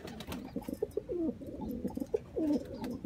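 A purebred Sialkoti pigeon coos in a few low, throaty rolling phrases with short gaps between them, close and moderately loud against faint background noise.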